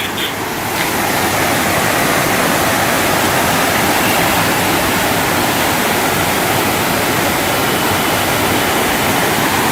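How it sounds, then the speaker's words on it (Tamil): River water roars through the sluice gates of the ancient Kallanai dam on the Kaveri river, a loud, dense, unbroken rushing wash that holds steady throughout without any voices. "ஸோ இந்த மதகுகள் வழியா தண்ணி இந்த சைடு ஒரு ஆறா ஃபார்ம் ஆகி ஓடுது பாருங்க."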